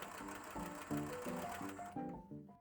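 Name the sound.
sewing machine stitching sleeves onto a blouse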